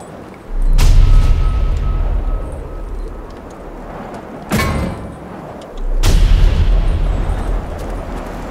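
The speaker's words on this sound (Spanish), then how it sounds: "Blast, el explosivo," Explosive projectile blasts fired in the action game Lords of the Fallen, three heavy booming impacts spaced a few seconds apart, each a sharp loud onset followed by a long low rumble, with no one talking.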